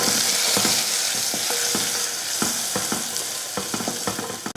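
Mustard seeds, urad dal, dried red chilli, asafoetida, curry leaves, crushed rasam spices and turmeric frying in hot oil, a loud continuous close sizzle broken by sharp crackling pops and scrapes.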